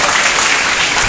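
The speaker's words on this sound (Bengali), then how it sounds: "যার জন্য হাততালি হবে," Students at Bajitpur Saradamani Balika Vidyalaya girls' school in Haldia clap together in a school hall, a loud, close, dense burst of applause lasting about a second.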